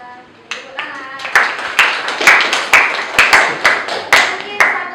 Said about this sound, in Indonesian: Terima kasih Asya. Tepuk tangan.